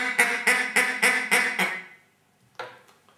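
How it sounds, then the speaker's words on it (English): A duck call used in a children's musical memory game, giving six quick, evenly spaced quacks close by, then a pause and one more short quack. "a duck"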